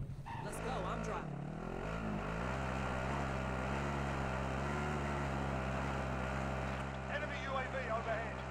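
A vehicle drives in a battle royale video game, its engine a steady droning whine that rises in pitch at the start and then holds, with game voices heard over it.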